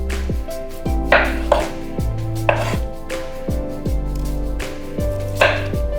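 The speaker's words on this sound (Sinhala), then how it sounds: "මේක අපි මැද්දෙන් කපලා ආයි දෙකට මැද්දෙන් කපනවා" A knife chops through a peeled pineapple on a board, with sharp, regular thuds spaced about a second apart, loud and close, each leaving a short ringing tail and no speech.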